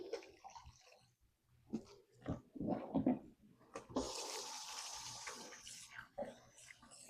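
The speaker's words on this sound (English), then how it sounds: "To give it a good rinse." Tap water runs over grocery-store vegetables in a sink, a close, steady splashing rush that starts midway after a few brief clunks and handling noises.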